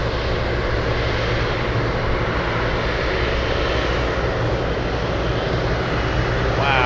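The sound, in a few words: Boeing 777 taking off, GE90 engines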